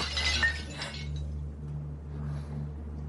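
Glass is struck and shatters in a short, bright crash at the start, and a few faint tinkles follow over a low steady hum.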